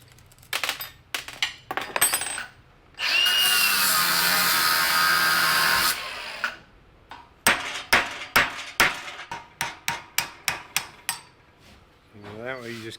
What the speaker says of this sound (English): you just cut it and then hit it with a chisel and it'll crack the rest of the way